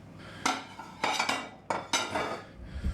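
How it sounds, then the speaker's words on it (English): Plates are taken out and handled in a home kitchen while a cheese and bacon quiche is served, making four sharp, close ceramic clinks and knocks with short pauses between them. "Let's get some plates."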